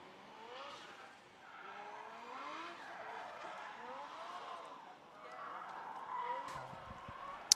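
Drift cars skid around the Oulton Park race circuit, tires squealing in rising and falling sweeps with engine roar at a moderate distance, continuous over several seconds.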